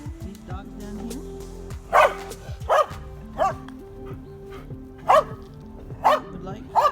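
Several dogs bark in repeated, evenly spaced bursts in a backyard where squirrels are fed, loud and fairly close, with a steady tonal hum running underneath.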